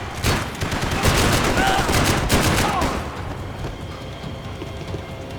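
Rapid gunfire in the Max Payne 3 shooter game: dense, loud bursts of shots that clatter for about three seconds and then ease into a quieter, rumbling background.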